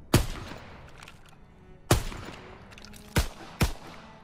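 Gunfire at the shooting range in the video game Call of Duty WW2: four sharp, loud single shots spaced irregularly, each with a short decaying tail, no talking.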